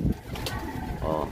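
A racing pigeon coos in a few soft, low throaty bursts at close range, mixed with faint background noise.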